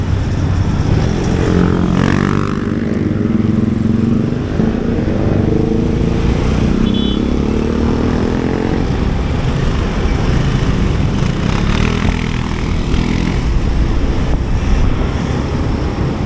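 Traffic heard from a moving motorcycle on an expressway, with heavy wind buffeting over steady engine and road rumble and passing vehicles swelling and fading nearby.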